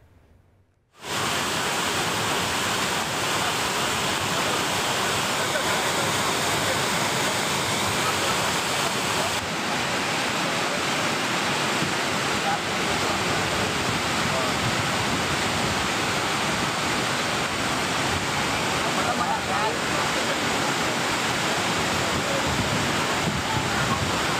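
Courtallam main waterfall in Tenkasi district, running in flood, makes a powerful, unbroken roar of crashing water that stays loud and even for the whole stretch after a brief quiet start.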